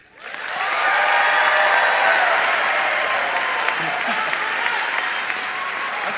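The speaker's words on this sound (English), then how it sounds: "if you can give a big round of applause" Sustained applause from a crowd, swelling quickly at the start and holding steady, loud and dense, with no talking over it.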